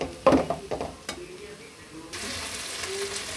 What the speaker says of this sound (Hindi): बस एक से दो मिनट के लिए भूनना है फ्रेंड्स, और फिर हम गैस का फ्लेम जो है वो बंद कर देंगे